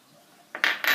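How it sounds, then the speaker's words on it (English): A teaspoon of rye flour goes into a sourdough starter jar, giving a soft scrape followed by two bright metallic clinks against the container, close and brief. "so I'm going to add in 10 grams of rye, or about 3 teaspoons"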